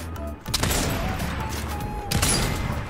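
Submachine gun fire in the video game Fortnite, a sharp burst near the start and another toward the end over a busy layer of in-game noise, loud and close without speech.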